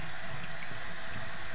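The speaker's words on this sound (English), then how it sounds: "You just start to rinse off the conditioner" Makeup brushes are rinsed under a running tap, and the water hisses and splashes steadily into a sink. The sound is close and constant, with no talking.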